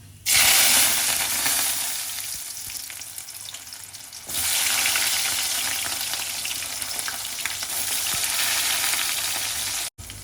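About two hundred grams of garlic frying in oil with mustard seeds and fenugreek for a Kerala-style netholi fish pickle. A loud crackling sizzle bursts in, eases off, then surges again midway and stays steady and close.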